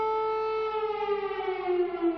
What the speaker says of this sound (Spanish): la sirena de ataque aéreo sonaba durante la rueda de prensa que ofrecía junto a la presidenta del Parlamento Europeo en Kiev